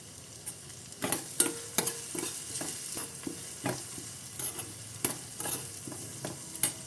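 Food frying on a medium flame in a pan: a soft background sizzle punctuated by frequent sharp scrapes and taps of a utensil stirring, at an irregular pace, close and fairly quiet.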